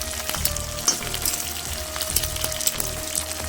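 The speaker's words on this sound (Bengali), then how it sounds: "শিমলা মরিচটা একটু ভাজা ভাজা করে নেবো" Close, vigorous sizzling of capsicum frying in a pan with a cooked spice paste, broken by sharp oil pops and the scrape of a spatula stirring every second or so. No speech.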